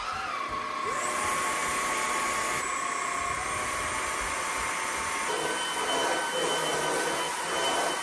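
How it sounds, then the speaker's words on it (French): A household vacuum cleaner runs continuously through a home cleaning session, a steady close whine with broadband airflow noise that holds level from start to finish, and the motor pitch shifts slightly partway through. "on va tester l'aspirateur"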